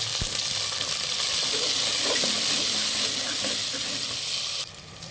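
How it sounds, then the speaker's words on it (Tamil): Onions and tomatoes sauté in a pan for a crab curry, giving a loud, continuous close sizzle and hiss that eases slightly near the end, with no talk. "அடுத்து தக்காளியை போட்டு வதக்கிடுவோம்."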